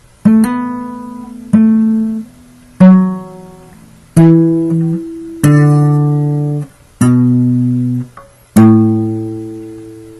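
A guitar riff played slowly, eight plucked notes rising and falling, each ringing out and decaying before the next, moderately loud with no voices.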